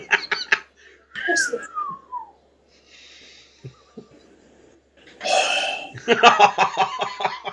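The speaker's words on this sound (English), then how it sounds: "That's him farting." A man's fart, heard as a few short raspy blasts mixed with laughter and chatter from several people during a casual watch-along.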